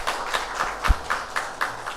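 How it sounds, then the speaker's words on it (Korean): A chapel congregation at a Hanyang University service applauds in thanks with steady, evenly spaced claps in unison, moderately close and with no talking over them. "우리 다시 한번 두 분 감사의 박수 하겠습니다."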